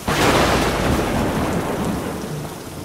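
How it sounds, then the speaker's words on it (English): A thunder sound effect rolls in loud and close, a broad rumbling crash over a rain wash that slowly fades across a few seconds. "Add thunder sound effects."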